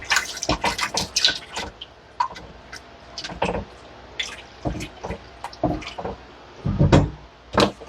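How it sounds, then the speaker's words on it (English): Broth pours from a box into a cooking pot for white chicken chili, with irregular glugging splashes and drips landing close by in uneven bursts. "I'm going to pour my other broth."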